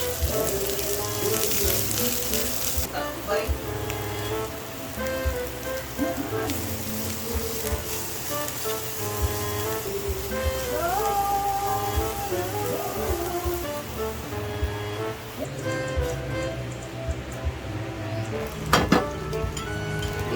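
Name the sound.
frying lumpia wrappers in cooking oil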